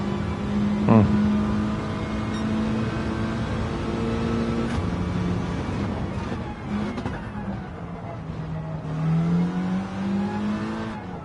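Race car engine in Gran Turismo 7, droning steadily through the gears with pitch climbing, dropping at shifts and rising again, loud and close throughout, with no talking.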